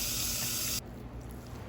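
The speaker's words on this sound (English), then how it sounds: "then we're gonna rinse under cold water so we can stop the cooking" Cold tap water rushes through a strainer of cooked pho noodles in a steady hiss that runs for under a second and then cuts off sharply.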